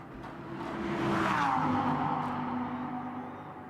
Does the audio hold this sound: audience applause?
no